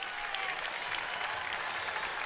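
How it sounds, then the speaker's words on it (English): A crowd at a Wyoming vs Penn State college wrestling dual meet applauds after a tech fall, producing dense, steady clapping and cheering that fills the whole moment without a break. "And the crowd is extremely happy after that tech fall."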